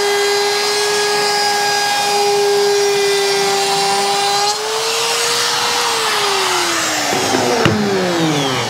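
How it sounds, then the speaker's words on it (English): CNC machine routing American chestnut wood for a picture frame, a steady high whine from the spindle that shifts pitch as the cut changes, loud and close with a brief sharp knock near the end. "So if we go over to the CNC machine,"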